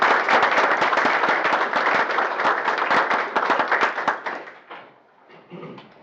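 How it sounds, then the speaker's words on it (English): A council meeting audience applauds young airmen with dense, steady clapping that holds for about four seconds and then fades out. A few scattered claps trail off at the end. "let's give them a round of applause"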